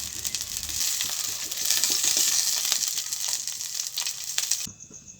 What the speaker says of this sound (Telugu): కొన్ని మిరపకాయలు వేసుకుని ఇంకా దింపేసుకుంటా అంతవరకు వేగినాయి మంచిగా